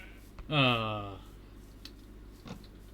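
A single short bleat, bright and wavering, from a Minecraft sheep, followed by faint clicks in a quiet background.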